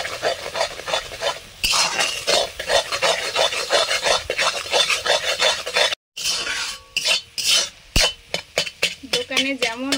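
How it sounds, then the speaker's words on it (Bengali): Eggs fry in refined oil in a pan while a utensil scrapes steadily across the surface, making a loud, continuous rasping sizzle with brief breaks near the end, where talking is faintly heard. "ডিমটা একসঙ্গেই ভেজে নিচ্ছি।"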